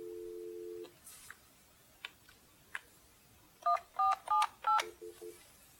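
Keypad tones on an Alcatel-Lucent OXO phone while an operator password is entered: a couple of tone pairs, some soft button clicks, a run of four or five distinct beeps, then short repeated tones, close and clear.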